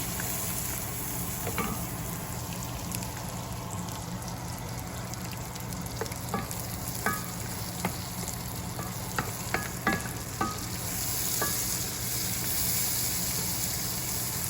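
Cashew nuts and raisins fry in melted butter with a steady, close hiss, broken by a few crisp spoon taps and scrapes against the pan near the middle.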